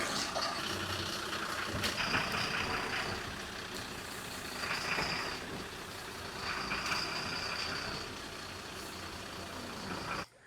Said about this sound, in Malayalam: നമുക്ക് വണ്ടി നീക്കിയിടാം